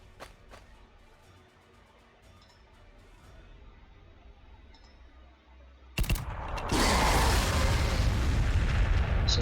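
Frag grenades go off in the Warhammer 40,000: Sanctus Reach game, a sudden heavy blast followed by sustained loud, roaring explosion noise after a quieter stretch of faint mechanical ambience.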